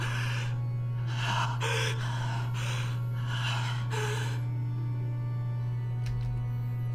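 Heavy breathing from a Fate/Stay Night: Unlimited Blade Works visual novel: a series of sharp gasping breaths in uneven rhythm, close and clear over a steady low hum, with no talk.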